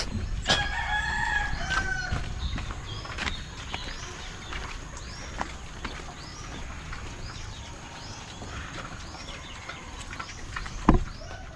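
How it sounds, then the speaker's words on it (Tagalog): A rooster crows near the start while chickens cluck and shuffle around a farmyard, the calls fairly close. Scattered rustles and knocks follow, and a sharp thud comes near the end, with no talking. "Kailangan kasi bantayan yung mga manok dito eh."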